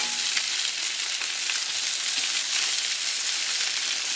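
Quail with grapes, Loupiac wine and honey cooks gently in a pan, giving a steady, close, even sizzle and crackle with faint stirring, heard alone without talk.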